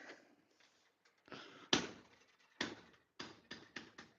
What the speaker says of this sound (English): This door actually shuts a little bit harder